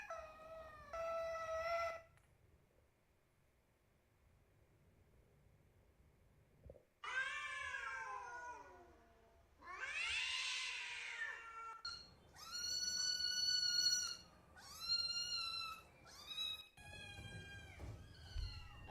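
Cat meowing in a quiet room, several separate drawn-out meows and howling cries at close range, with short pauses between them and a rising, more insistent run near the end.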